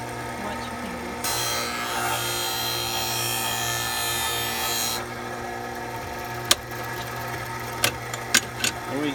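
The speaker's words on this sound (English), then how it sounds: "What we got to give her a little grind down." Skate sharpening machine grinding an ice skate blade, a steady harsh rasping hiss over a motor hum for several seconds, then a quieter hum broken by a few sharp clicks.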